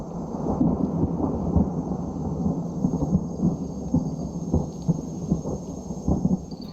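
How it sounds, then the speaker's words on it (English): An approaching thunderstorm in mountain gorilla country brings steady rain hiss under repeated low thunder rumbles and cracks, loud and close, with no voices. "The rain is moving in."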